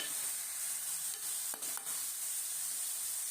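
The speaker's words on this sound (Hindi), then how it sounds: "चम्मच को इसलिए हिलाना है कि हमारा जो चिकन है वो कढ़ाई के नीचे ना लग जाए" Chicken fries in a karahi with a steady bright sizzle throughout, broken by a couple of short metallic spoon scrapes against the pan near the middle.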